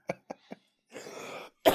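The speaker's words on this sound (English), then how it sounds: "God, I'm sick of this damn cough." Three short, sharp coughs in quick succession, then a breathy exhale and a final louder cough, close and dry with no talking.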